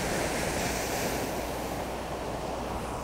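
Ocean waves break along the rocky coast at Inubosaki in Choshi, a continuous loud wash of surf with wind buffeting the microphone and no voices.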